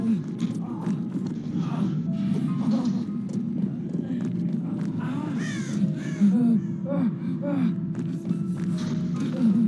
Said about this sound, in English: Disturbing all the fucking birds.